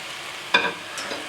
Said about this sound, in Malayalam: ബീഫ് ചേർത്തതിന് ശേഷം ഒരു മീഡിയം ഫ്ലെയിമിൽ വെച്ച് നന്നായിട്ട് വഴറ്റി കൊടുക്കണം.